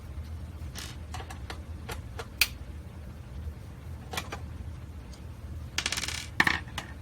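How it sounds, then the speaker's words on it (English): Two screws come out of the casing of a Pioneer CLD-53 Elite laserdisc player, giving a series of small sharp metallic clicks and ticks from a screwdriver, with a couple of brighter clinks toward the end in a quiet room. "So we're going to pop these two screws out."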